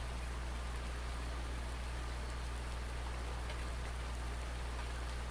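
Steady rain in Farming Simulator 19 on PS4, a dense, even hiss of falling drops with a low constant hum beneath, unbroken and without any talk.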